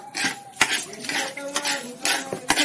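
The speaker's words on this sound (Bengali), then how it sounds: "সবজিগুলো ধুয়ে নেবো" Vegetables such as aubergine, peas and coriander are handled in a kitchen sink, with several bright clinks of dishes and utensils over soft watery rustling, close and uneven.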